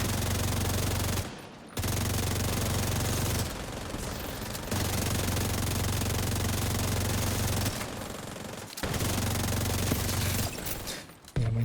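Rapid, sustained automatic gunfire from a video game shooter, loud and dense in long bursts with a few brief gaps between them.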